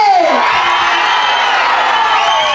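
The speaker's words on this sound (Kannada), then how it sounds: "ಚಪ್ಪಾಳೆ ಶಿವಣ್ಣ ಅವರಿಗೆ" A crowd cheers and whoops for Shivarajkumar as he comes forward at a Tulu film trailer launch in Mangaluru, a loud, sustained roar of shouting voices that fills the hall without a break.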